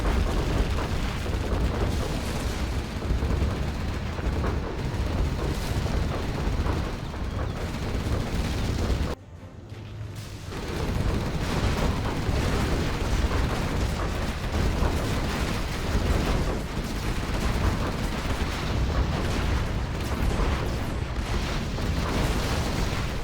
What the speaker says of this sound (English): Carpet Artillery will finish him off.